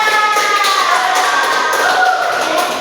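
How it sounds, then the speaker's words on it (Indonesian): A classroom of students claps briefly in applause, a quick patter of hands that stays fairly loud and continuous, with a faint tone running through it. "Tepuk tangan buat yang sudah jawab."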